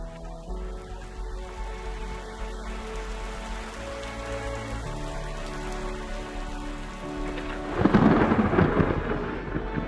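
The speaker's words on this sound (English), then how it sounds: "They launched in the middle of a thunderstorm." Thunderstorm with rain falling steadily and a deep rolling thunderclap building loudly near the end, no voices.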